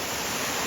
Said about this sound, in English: Here are the lower falls, and then up there, those ones are the upper falls.